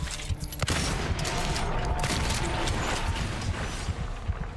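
Dense, overlapping gunshots from James's gun in the Silent Hill 2 remake crash out in a loud, continuous barrage that barely lets up over a few seconds.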